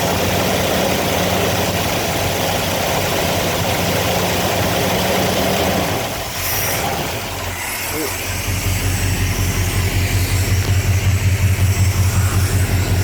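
A Mopar small block V8 with dual quad carburetors and cobbled fuel lines idles roughly, a loud uneven low chug that dips briefly midway, then settles into a steady lumpy rhythm close by.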